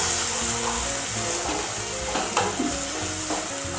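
Masala frying in oil for a Bihari-style small fish curry (pona/charapona fish) gives a steady, close sizzle with soft stirring scrapes, heard alone without talk.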